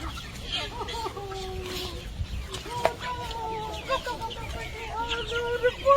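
A chicken clucks and squawks repeatedly, close and fairly loud, as it is about to be slaughtered during city life in Kenya; a voice speaks over the bird's agitated calls.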